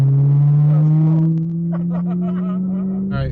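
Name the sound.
Ferrari driving on a road trip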